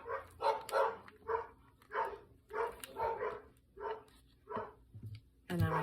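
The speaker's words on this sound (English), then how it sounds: "Those dogs, I think, are just going to be loud and obnoxious today while we're filming." Dogs bark repeatedly in the distance outdoors, about ten moderately loud woofs spaced fairly evenly with short pauses between, and no talk over them.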